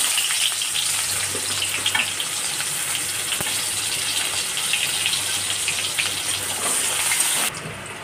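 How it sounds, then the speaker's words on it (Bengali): Chopped onion goes into hot oil after pabda fish has been fried, and a loud, continuous crackling sizzle follows, close and steady with no speech, dropping a little in the final moment. "এবার তেলের ওপরে দিয়ে দেবো পেঁয়াজ কুচি"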